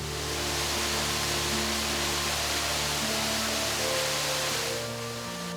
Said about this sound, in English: water flowing over a ledge can be so awe-inspiring